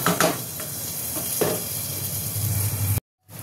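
Mutton slow-frying in a pan with chui jhal spices for Bengali kosha: a steady close sizzle and hiss with a few stirring scrapes, ending in a brief silence before the sizzle returns.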